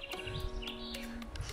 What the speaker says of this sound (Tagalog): Tapos maririnig nyo lang ay mga ibon.